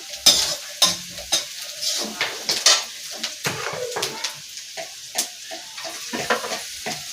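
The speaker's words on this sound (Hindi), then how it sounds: "और मैं प्याज फ्राई कर ले रही हूँ।" Onion frying in a pan, stirred with rhythmic scraping strokes every half second or so over a soft sizzle, without talk.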